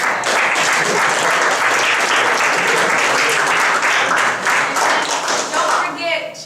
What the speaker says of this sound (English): You guys give yourself a round of applause for that.